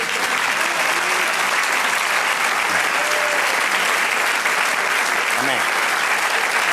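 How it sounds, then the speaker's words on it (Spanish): A church congregation applauds during a service: dense, sustained clapping from a crowd, even and loud for several seconds without a break. "Denle un aplauso al Señor."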